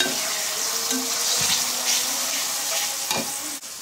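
Ginger and garlic paste with turmeric being stirred in a hot frying pan for chicken curry with bottle gourd and potato, producing a continuous close sizzle and hiss with occasional scraping strokes of a spoon, and no voices.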